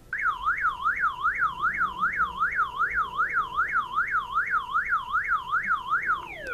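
A six-tone car alarm siren, loud and close, sweeping up and down in a fast, regular warbling pattern and then shifting into a falling tone at the end.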